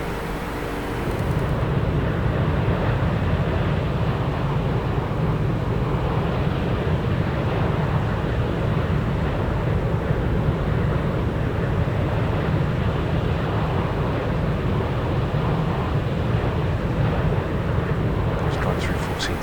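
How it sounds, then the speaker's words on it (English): Simulated Felis 747-200 airliner climbing in X-Plane 11, a steady broadband engine and airflow roar that holds constant and loud for the whole stretch after a brief quieter start. "now the aircraft can start to climb"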